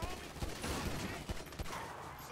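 Rapid automatic gunfire during a gang war in the video game GTA 5, with repeated loud bursts and sharp individual shots overlapping in a busy, continuous exchange; faint voices mix in beneath.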